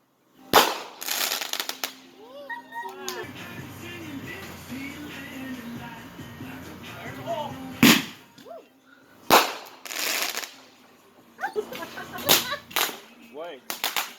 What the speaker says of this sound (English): What kind of bullish fireworks are these?